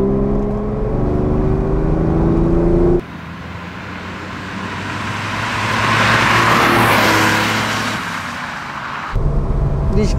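A 1966 Porsche 911 SWB in original condition drives through curves, its engine droning loudly and steadily, swelling as it pulls through a bend and easing off again, with almost no talk.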